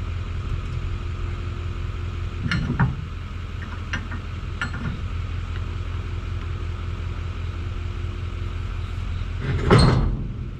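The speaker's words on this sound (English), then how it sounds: "Hooked the trailer up for my mom." Hooking up a trailer brings a few dull metallic clunks and knocks over a steady idling rumble, with a heavier thump near the end, no talk.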